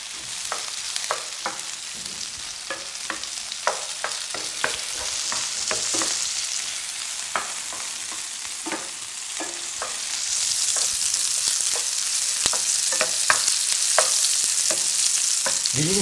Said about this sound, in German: Ich tue jetzt das Eiweiß rein und brate es schön krustig.